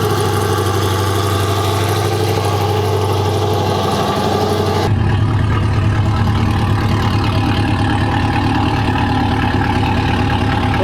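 Chevrolet C8 Corvette V8 fitted with a K&N air intake, running close by: a steady idle drone, then an abrupt shift about halfway to a louder, rougher, fuller engine roar held to the end.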